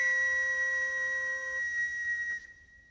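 A toy whistle blown in one steady, clear, bright tone lasting about two seconds, then cutting off abruptly, close and fairly loud with nothing else around it.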